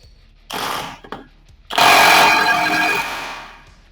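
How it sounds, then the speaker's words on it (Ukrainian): A cordless impact wrench spins a nut loose in reverse, running in two bursts: a short one and then a longer, louder one of about two seconds. It stops abruptly once the nut comes free. "От, гайка відкрутилася, гайкокрут зразу зупинився."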